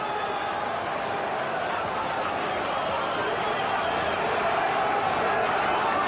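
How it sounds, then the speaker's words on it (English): Steady, dense roar of a large stadium crowd at a 1995 Rugby World Cup pool match between Western Samoa and Argentina, a continuous wash of cheering and shouting that swells slightly toward the end. "Tremendous din in the stadium now"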